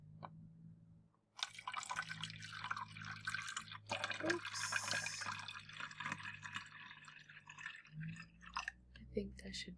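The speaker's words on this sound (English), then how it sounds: "I am to put some water into the empty bottle of water." Water is poured from above into an empty plastic bottle with a continuous splashing, gurgling trickle that starts abruptly and runs for several seconds, close to the microphone.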